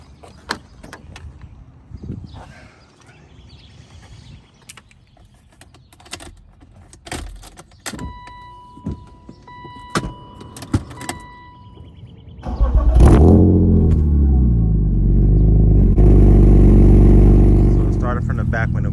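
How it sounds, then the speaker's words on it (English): A BMW M3 makes a cold start after keys jangle and a door clicks, the engine cranking and catching into a loud, steady idle, with someone talking before it. "let's do a cold start"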